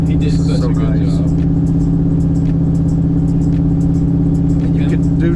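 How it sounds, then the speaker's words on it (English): Chevrolet C10 longbed truck exhaust rumbles with a constant low, loud drone while driving, and a person talks over it the whole time. "The exhaust sounds so good on it."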